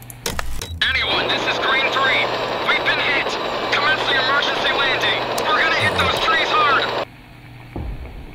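A helicopter in the Radio Commander video game, hit and going down, gives a loud, steady roar for about six seconds with radio-style voices chattering over it, then cuts off abruptly.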